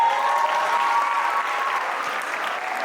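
A live stream audience claps and cheers loudly and continuously, the applause steady and dense from start to finish with no clear voices above it.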